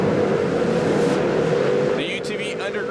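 UTV off-road race cars roar around a dirt track at the San Diego County Fair Terracross event, a sustained engine drone that wavers as machines pass, with an announcer talking over it.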